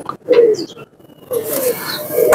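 Pigeons of the teddy breed coo in a flock of about 25 to 30 birds, with low, throaty, rolling calls close by, loud and repeated in two or three phrases with faint chirps mixed in.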